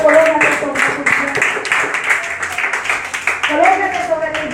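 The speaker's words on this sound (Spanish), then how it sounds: "Gritémosle un fuerte aplauso al Señor" A church congregation claps in steady bursts of applause for the Lord, with a voice speaking over the clapping throughout.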